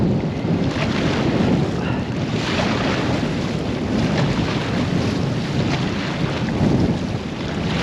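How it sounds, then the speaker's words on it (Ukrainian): Stormy wind roars steadily across open water with waves washing in continuously, a loud, unbroken blustery rush heard from a shore during a fishing outing. "Штормить не слабо."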